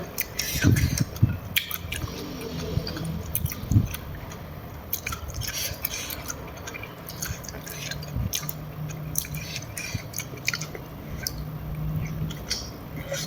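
Someone chews and bites into food from a Thai jaew hon hot pot, producing soft, wet squishing and crunchy bites in an irregular rhythm close to the microphone, with faint background noise.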